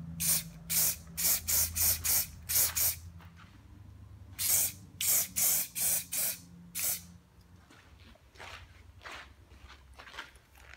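Sonax Wheel Rim Shield aerosol sprayed onto a wheel in a string of short, close, loud hissing bursts, a quick cluster of about seven, a pause, then another run of several bursts, with no talking.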